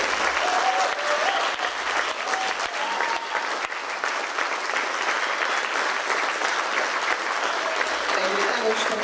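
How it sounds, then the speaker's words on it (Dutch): A theatre audience applauds the actors after a performance, sustained dense clapping continuing evenly for several seconds, with a few faint voices beneath. "Een keer een geweldig applaus voor deze"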